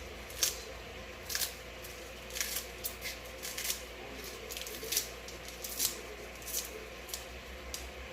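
Knife or scissors snip through cooking greens in quick, crisp cuts, a series of short bright crunches spaced irregularly over a quiet background, close and fairly soft.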